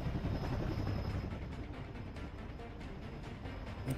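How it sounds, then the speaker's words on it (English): A helicopter flies in the video game Cepheus Protocol, heard as a steady, faint rotor rumble with a rhythmic chop that keeps going for the whole stretch and has no voices over it. "I don't know why we hear this chopper down here all the time."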